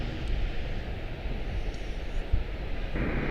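An American Airlines Airbus A321-231 departing Charlotte-Douglas International, heard as a steady broadband jet roar with a low rumble, continuous and fairly loud throughout.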